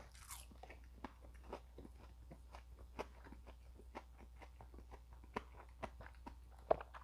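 Crisp, close bites and crunching of Red Lobster shrimp in a quiet room, a steady run of sharp chews at irregular intervals with no talking.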